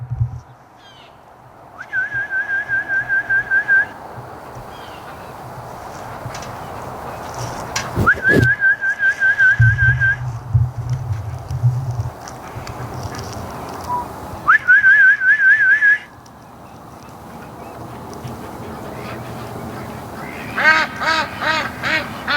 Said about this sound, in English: I'm going to whistle and see if we can get our ducks to come back